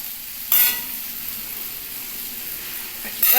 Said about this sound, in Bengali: আমি কাঁঠালি বিচি দিলাম দুটো কাঁচা লঙ্কা দিয়ে দিচ্ছি